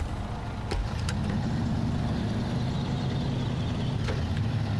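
A truck engine in the off-road driving game SnowRunner hums at a steady, loud low drone after a couple of clicks, holding constant throughout with no talk.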